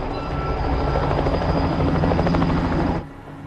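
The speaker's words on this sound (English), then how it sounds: "a helicopter finally dispatched to Mangwalu" Helicopter sent during intense fighting, its dense rotor thrum and turbine whine loud and steady for about three seconds before cutting off abruptly to a quieter background.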